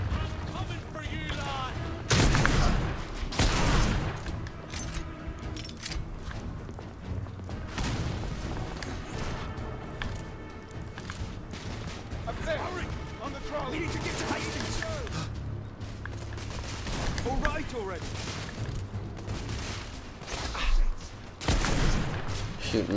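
Repeated gunfire in the video game The Order 1886, loud close shots and bursts scattered throughout amid a busy combat soundscape with irregular spacing.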